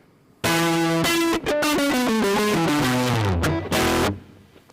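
Electric guitar playing a short riff of sustained notes and a descending line, heavily saturated with tanh waveshaping distortion in Python, giving a loud, buzzy, metal-style tone with brief gaps between phrases.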